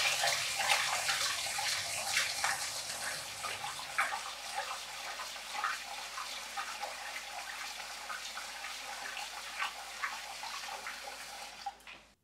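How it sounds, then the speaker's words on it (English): Sushi rice is washed gently in cold water with a smooth swirling motion, a steady splashing, sloshing wash that runs continuously, heavier at first, then lighter and softer before stopping abruptly. "using cold water, we're just going to wash the rice gently"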